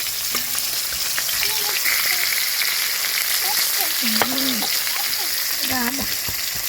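Japanese puti fish frying in hot oil, a steady loud sizzle and crackle filling the clip, with faint intermittent speech-like tones in the background.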